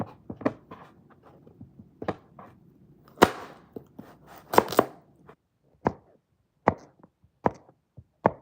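A knife chops through homegrown backyard pumpkin on a board in a home kitchen, sharp irregular thuds spaced a second or so apart with a few quick clustered chops, close and fairly loud with no talking.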